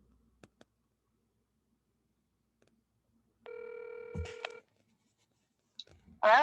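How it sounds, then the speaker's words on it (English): A few clicks, then a steady phone ringback tone rings once for about a second, followed by a brief click and a voice starting at the end. "We're going to make a call right now."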